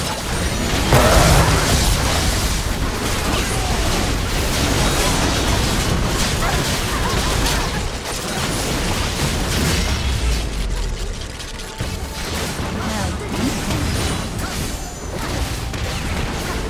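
Explosive bursts and crashes as the Nexus is destroyed in League of Legends: Wild Rift, a loud, dense roar of booms and crumbling debris that runs continuously with a strong onset near the start.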